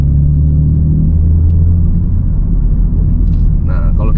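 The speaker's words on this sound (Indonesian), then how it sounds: "langsung menggelegar dia knalpotnya tuh" BMW M4 Competition exhaust in its louder M2 drive mode, a steady deep rumble held close and loud for the whole stretch, with a brief brighter rise near the end.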